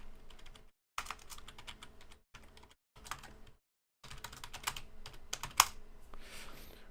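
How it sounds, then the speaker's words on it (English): Fast typing on a computer keyboard during a Total War Warhammer 3 tournament stream, close and steady bursts of key clicks broken by brief pauses, ending with one sharper keystroke. "I'm almost done with the typing."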